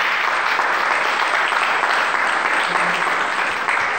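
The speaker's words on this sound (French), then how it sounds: "Applaudissez pour Sophie." Congregation clapping during a French-language church service, a dense, even burst of applause that holds steady throughout.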